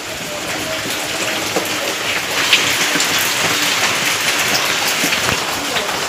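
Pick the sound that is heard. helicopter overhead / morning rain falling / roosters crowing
morning rain falling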